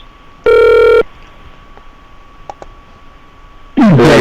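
A telephone rings during a call-back on a radio show, with a loud buzzing ring tone burst, faint clicks on the line, then a second ring cutting in at the end.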